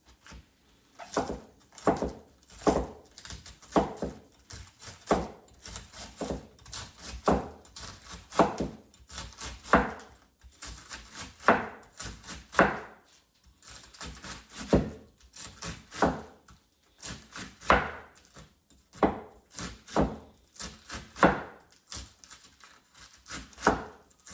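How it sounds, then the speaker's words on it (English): Knife chopping cabbage and beef into slices on a cutting board for a stir fry, a long run of close, rhythmic thuds in quick bursts, steady and unaccompanied. "now I'm going to go ahead chop it into slices"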